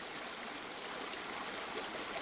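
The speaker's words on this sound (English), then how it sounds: "On the low tide, the current flowing over the rock bar presents a challenge." Steady rushing river current pouring over a rock bar at low tide, a broad continuous wash of moving water, close and even throughout with no voices.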